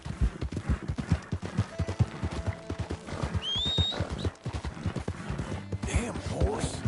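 Rapid, rhythmic hoofbeats of a galloping horse in Red Dead Redemption 2 pound steadily, with a brief whinny partway through and a voice talking over them.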